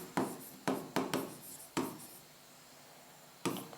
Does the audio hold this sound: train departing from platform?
no